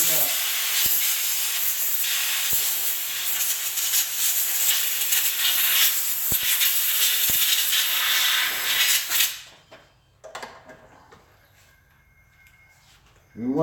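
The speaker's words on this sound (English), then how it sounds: "I'm gonna spray this thing out." Aerosol spray blasts into a 5th-scale RC car bearing to flush out grit, a loud continuous hiss for about nine seconds, then it stops abruptly and brief faint handling noises follow.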